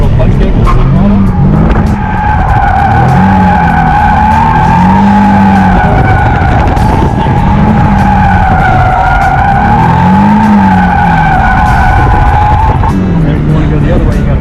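A car drifts in circles at a learners' drifting day. The engine revs loudly and the tires squeal in long, rising skids that repeat in waves. The sound is close and continuous, with a voice underneath.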